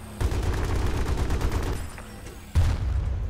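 Automatic weapon fire rattles in the video game Battlefield: Bad Company 2 Vietnam multiplayer, a sustained burst of rapid shots with dense game noise, pausing briefly before another loud burst near the end.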